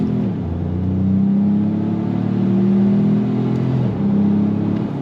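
A 2025 Ford Maverick Lobo pickup truck accelerating on throttle, its engine droning and rising in pitch as it pulls steadily through a gear, heard from inside the cab with no talk.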